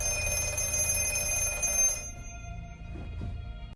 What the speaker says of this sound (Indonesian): Tak lama, telepon kembali berdering.